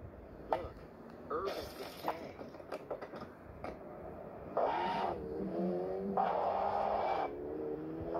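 A car driven in the game Gangster 5 revs in bursts of rising engine tone with intermittent clicks and thumps, moderately loud with no talking over it.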